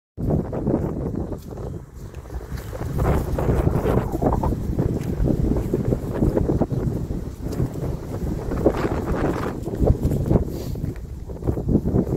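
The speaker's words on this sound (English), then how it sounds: "It's as windy as anything. It's a very windy morning this morning" Strong wind buffets the microphone in a continuous low roar, gusting throughout with a faint rustle and no voices.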